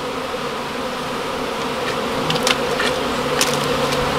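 Honey bees buzz steadily around a beehive, a dense continuous drone with a few louder individual bees passing close by, no talking.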